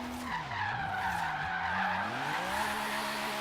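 A car drifting in Forza Horizon 3, sliding with heavy body roll and no roll cage: a steady loud engine drone with a continuous tire squeal that rises and falls in pitch as the slide goes on.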